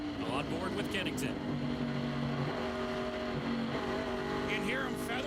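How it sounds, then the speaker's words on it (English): Stock car engine heard from on board at the 2014 Clarington 200, a loud continuous roar whose pitch wavers as the throttle is feathered, with commentary over it. "You can hear him feathering the throttle."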